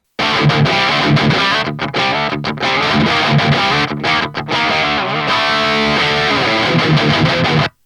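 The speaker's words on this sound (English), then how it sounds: "I use the second overdrive pedal for the high gain tones" Heavily overdriven electric guitar through overdrive pedals playing loud, dense chords and riffs, with a few brief gaps, a thick high-gain distorted tone throughout.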